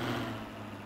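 Mercedes car engine running with a steady low rumble and broad mid-range noise, close and continuous, no clear rev rise.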